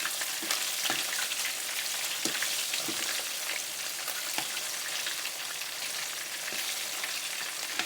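Chicken wings deep-frying in hot oil, a dense, steady sizzle and crackle running throughout, close and fairly loud, with occasional sharper pops and no talking.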